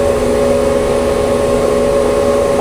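Chinese AUPAX combine harvester engine running at a steady, loud, continuous drone with a strong low hum and no other sounds.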